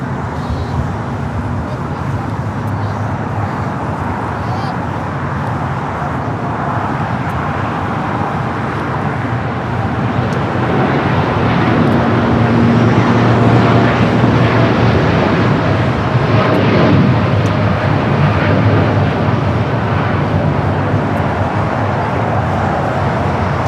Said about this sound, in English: American Dreamliner now rolling down at 25 right.